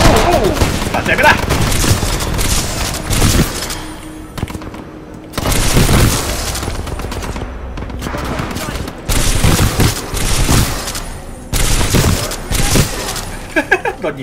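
Heavy Titanfall 2 gunfire in repeated loud bursts and booms, separated by short lulls, with someone talking underneath.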